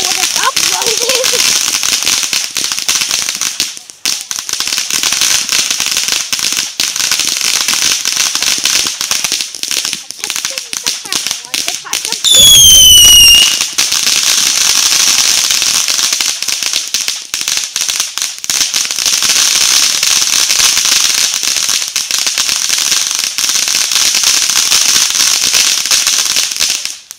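Fourth of July fireworks and firecrackers going off in a dense, continuous crackling hiss with sharp pops, loud and close, briefly interrupted by a short whistling burst midway.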